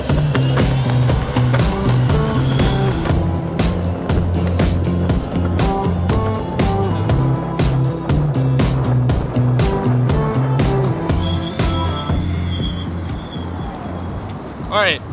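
An electric skateboard riding fast on a road, a loud continuous whirring motor whine with rumbling wheel noise and rapid ticks from the pavement, steady and close before easing off near the end.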